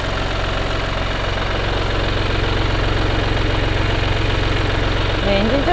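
A used Mini Cooper D 5-door third-generation diesel engine idles steadily and loudly up close in the engine bay, a constant low rumble with rhythmic mechanical ticking throughout.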